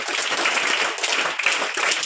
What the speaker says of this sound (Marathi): त्यामुळे त्यांच्यासाठी टाळ्या वाजवायला लागले